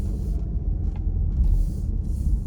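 A car rolls past on a street in Southwest Detroit near Clark and Scotten, its steady low engine rumble and tire noise swelling and fading with bursts of hiss, no talk.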